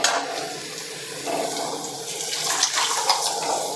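Dissolved tamarind water with chili powder, coriander powder, tomato and salt is poured into a curry pot, giving a steady, close, sloshing rush of liquid that lasts the whole stretch with no talk.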